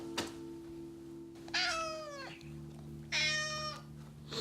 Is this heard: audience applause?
no